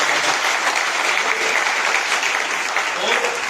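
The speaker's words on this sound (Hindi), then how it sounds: "एक बार जबरदस्त तालियां।" A crowd applauds steadily throughout, dense clapping that stays loud and even from start to finish with no voices rising above it.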